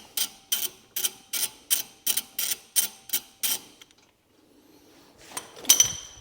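Ratchet undoing 10mm bolts on a Vauxhall Mokka front brake carrier: about ten sharp, evenly spaced clicking strokes, then a pause and a few clinks and a faint clatter.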